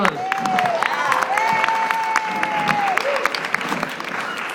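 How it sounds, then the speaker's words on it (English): Lively audience clapping for a girl at a church mission event in Toronto, Ontario, sustained and close, with cheers and voices weaving through the applause. "Give her a round of applause."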